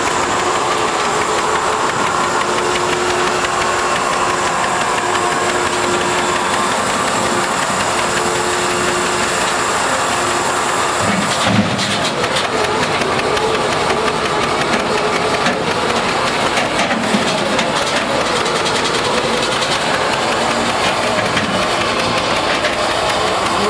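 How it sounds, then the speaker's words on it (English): A winch is cranked up to lift a tractor at the Red Power Round Up farm show, running under a steady, loud mechanical engine drone with a rattling, knocking texture. There is a brief clunk about halfway through. "I guess he's going to winch her up there. Got the winch cranked up."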